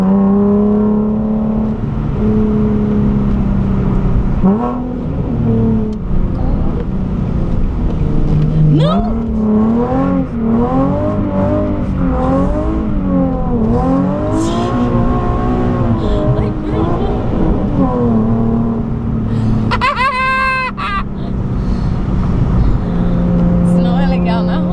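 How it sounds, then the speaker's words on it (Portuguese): A Nissan 370Z engine revs repeatedly during a drift outing, its rising and falling pitch swelling and easing across the clip, loud and close, with people talking throughout. "e o carro vai fazer ronco."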